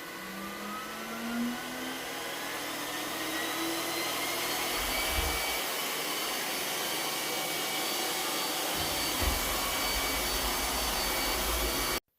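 An iRobot Roomba S9+ robot vacuum runs steadily over a sand-strewn tile floor, its loud, continuous suction whine and brush motor droning throughout with a brief low thump midway.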